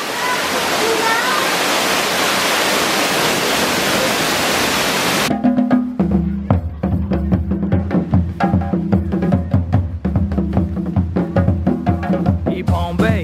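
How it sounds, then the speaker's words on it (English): A waterfall at the San Diego Zoo roars as a loud, steady broadband rush for about five seconds, then cuts away to a busier scene of footsteps, knocks and talking people. "Waterfall."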